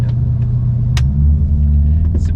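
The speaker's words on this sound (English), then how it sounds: "So now that we're back in hybrid, the engine will kick back in." Ferrari SF90 Stradale engine rumbling into life as the hybrid drivetrain switches back to petrol power, a close, steady low drone from inside the car with faint clicks over it.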